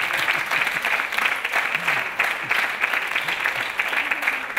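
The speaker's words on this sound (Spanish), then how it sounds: "Muchas gracias, querido público, por esos espontáneos aplausos que yo no esperaba" A live audience at a public talk with the comedian José Mota claps steadily throughout, the dense close applause staying at an even level with no voices over it.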